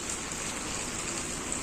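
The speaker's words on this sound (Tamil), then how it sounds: "15 மணி நேரம் மழை லிட்டரலாக காலைல 5 மணி 4 மணிலேருந்து பெஞ்சிக்கிட்டு இருக்கு" Heavy, steady rain falls in Tirunelveli after many hours of downpour, a continuous close hiss with no pause across the whole stretch and no voices.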